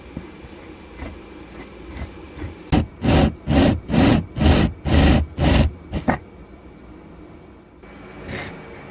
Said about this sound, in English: Now we're just coming in with a bigger drill.